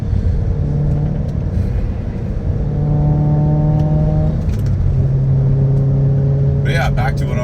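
A BMW E90 M3 with a 6-speed manual holds a steady 2,500 RPM, its engine humming evenly and loud up close, the pitch shifting slightly midway, with a brief higher burst near the end.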